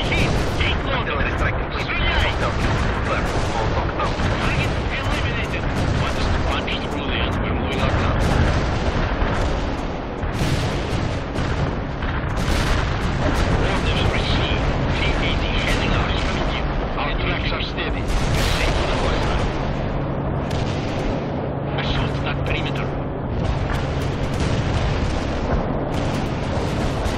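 Tank cannon fire and explosions in a Soviet Assault battle, loud booms overlapping continuously across a dense wall of combat noise, with radio-style voices talking over it.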